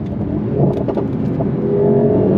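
A 2025 Mercedes-AMG GT 63's V8 engine pulls hard on a launch-control start, a loud, close, rising roar that holds strong throughout the short burst.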